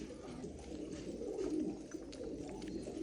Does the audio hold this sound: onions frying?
no